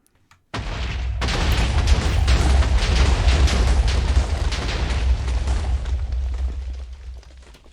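A Minecraft TNT blast erupts after a short silence, a loud, close, booming roar with crackling debris that rumbles on for several seconds, then slowly fades.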